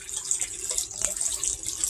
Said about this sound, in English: There's water coming out.